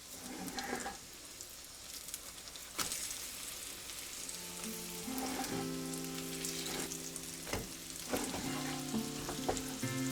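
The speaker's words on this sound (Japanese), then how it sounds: "焦げないように中弱火でこんがりと焼き上げよう。" A folded calzone-style pizza fries in a pan over medium-low heat with a steady close sizzle and crackle, broken by a few sharp clinks and a low tonal hum in the background.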